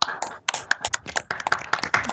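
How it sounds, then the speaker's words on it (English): A small audience at an academic seminar claps briefly after the speaker's talk, with sparse, uneven handclaps close to the microphone. "let's just get a round of applause for Ryan in the camera"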